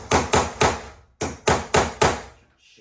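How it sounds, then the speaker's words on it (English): A hammer strikes a stuck screw in a door hinge seven times, in two quick bursts of sharp, loud, ringing metallic blows with a short pause between them. "So I'm going to keep banging on it and see if I can't extract it."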